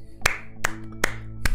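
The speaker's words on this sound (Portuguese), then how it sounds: "Palmas." Four sharp, separate hand claps are evenly spaced about a second apart. They ring out loud and close, with no voices over them.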